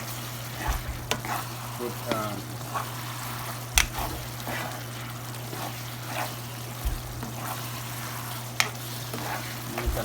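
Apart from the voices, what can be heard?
food frying and being stirred in a pan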